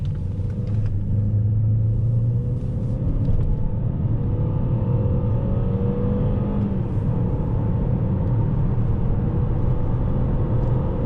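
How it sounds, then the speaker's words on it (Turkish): An Opel Insignia 1.6 turbo engine revs at high rpm with a loud, continuous, gravelly rumble and a steady drone from the car, with no talk over it. "Bak bir de üst devirlere çıkınca böyle bir hırıltılı tatlı bir motor sesi var."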